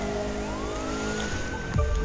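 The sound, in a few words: police sirens in video game The Crew 2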